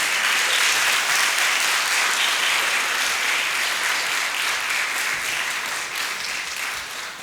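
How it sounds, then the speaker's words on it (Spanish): Young people in a school audience give a long round of applause after a guest lecture on the new world order, close, dense clapping that holds steady before gradually tapering off. "Un aplauso, por favor, jóvenes."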